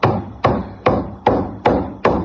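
Six-inch nails are driven into doubled 2x4 lumber by bare palm strikes, heard as six loud, evenly spaced thuds about every 0.4 seconds, each with a short ringing decay.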